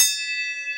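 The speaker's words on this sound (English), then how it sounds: "So we're gonna ring the bell for now" A single bell struck once near a garage workshop, a bright clang that rings out into a steady, clear sustained tone for the rest of the moment, close and alone.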